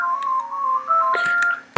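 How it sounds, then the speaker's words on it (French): Telephone ringing indoors, a steady electronic tone pattern with short bursts, heard alone and fairly clear for under two seconds. "Ah, le téléphone sonne."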